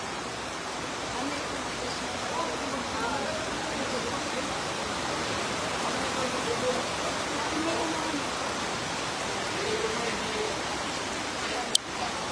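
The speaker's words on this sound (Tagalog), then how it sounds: "Umulan na po ng yelo." Hail falls in Cavite, a dense, even hiss and patter of ice pellets striking surfaces nearby, continuous throughout with faint voices underneath.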